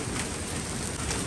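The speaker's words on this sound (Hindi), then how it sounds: "ओले पड़ने लग गए हैं" Hail pelting down in June in a dense, loud, unbroken clatter, close by, with no voices.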